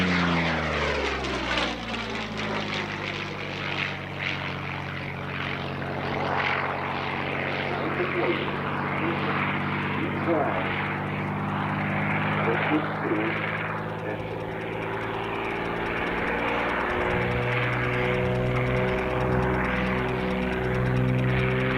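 A P-40N Warhawk propeller warplane flies past at an airshow, its piston engine droning loud and steady throughout with a rising and falling pitch, under the chatter of a crowd and an announcer.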